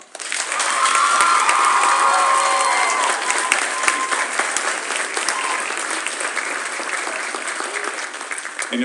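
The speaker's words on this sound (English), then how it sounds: "Give him a round of applause." Audience applause and cheering fill a 9th–12th grade vocal concert, a dense sustained wash of clapping from a large crowd that stays loud throughout, with a few scattered whoops rising briefly near the start.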